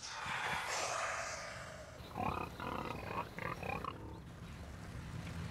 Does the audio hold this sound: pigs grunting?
yes